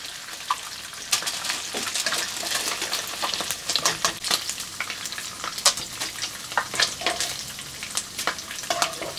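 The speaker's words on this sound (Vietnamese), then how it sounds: "Chiên giòn ra mọi người." Shrimp coated in batter fry crisp in hot oil, a dense, continuous sizzle and crackle full of sharp popping bursts, close and loud throughout.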